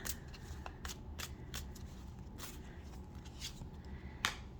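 Tarot cards being shuffled by hand: soft, quiet riffling flicks and shuffles come in repeated short bursts, close up and with no talk.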